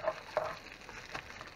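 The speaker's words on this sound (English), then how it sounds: "Give it a little stir." Soft sizzling and frying with a couple of light scraping knocks as cabbage, bacon and vegetables are stirred in a cast iron Dutch oven, quiet and close.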